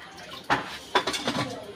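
Water poured into a cooking pot while preparing a tomato and lentil dish in a home kitchen, heard as a few splashing bursts with metallic clatter of the pot, fairly quiet and close.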